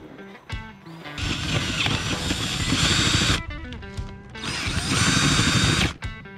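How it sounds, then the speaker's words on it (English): A 1 1/4 inch hole saw drills a large bore hole during an RV solar system build, running in two sustained, loud bursts separated by a short pause, with a brief start at the beginning. "we're going to drill a big bore hole through with this 1 1/4 inch hole saw"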